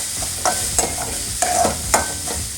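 Grated coconut and ground masala frying in a pan for a sprouted horse gram saaru and palya, heard as a steady sizzle broken by a few sharp scraping stirs, close by, with no talking.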